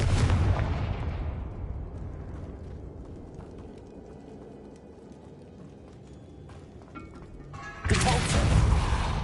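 A Confringo explosive spell is cast in Hogwarts Legacy, bursting as a loud, broad blast that fades into a low rumble with scattered debris and then surges back into another loud burst near the end.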